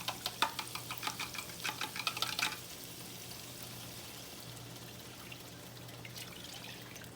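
Flour mixture poured into a pan for steak gravy, a close, faint burst of rapid liquid splashing and sizzling crackle lasting a couple of seconds, then settling into a quiet steady hum with no talk.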